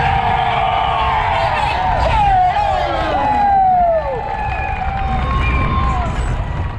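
Cheering crowd lining the home straight at the finish of a bike race, the Tour de Grandview, a continuous roar of voices with whistles and shouts rising and falling around a lone rider coasting in.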